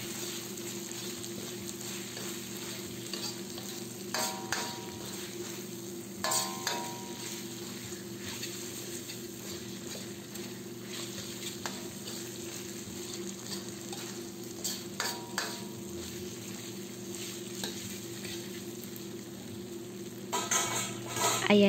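Chicken and potatoes with crushed pepper are stirred in a sizzling pan, a soft steady fry punctuated by occasional scrapes and clinks of a utensil against the pan.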